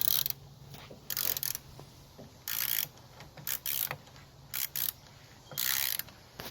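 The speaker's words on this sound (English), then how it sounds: "Let's go ahead and crank it up. And again, no Arnold Schwarzenegger strength on tightening that." A ratchet tightens a bolt on a Ford Ranger alternator, close-up bursts of rapid clicking in short repeated strokes, about nine runs with brief pauses between, no talking.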